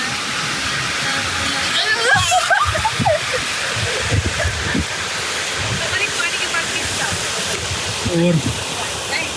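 A river in Broat Valley, Himachal, rushes past its bank with a constant, close hiss of flowing water, while people talk over it.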